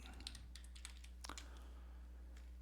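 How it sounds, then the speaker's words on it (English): Quick, light keystrokes tap on a computer keyboard in a short burst of several clicks, faint and close over a low steady hum. "type out the word majestic"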